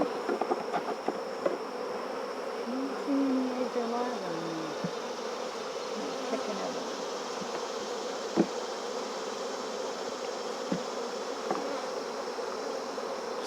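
Honey bees buzz at an open hive during a queen-finding inspection, a steady close drone of many insects running throughout, with faint handling noises in the background.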